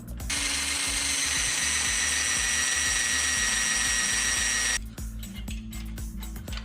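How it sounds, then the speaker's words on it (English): A power drill whines steadily for several seconds drilling a hole for a Predator 212/224 engine gas tank mount, then stops, followed by scattered clicks and handling noises nearby. "drill a hole and bolt this right to there."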